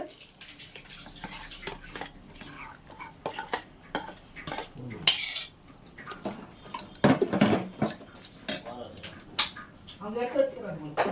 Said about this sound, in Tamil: இப்போ நல்லா இதை கிண்டி விட்டுறலாம்